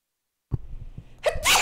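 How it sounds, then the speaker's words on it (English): A single person sneezes up close, a quiet breathy lead-in followed by a sharp, loud burst at the end, with nothing else around it. "I sneeze and then everybody comes out of the bulwark and starts talking."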